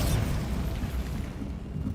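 Bombarda blasting spell in Hogwarts Legacy, a video game: a sustained, heavy rumbling explosion with a dense roar that holds loud and steady throughout, fading slightly at the end.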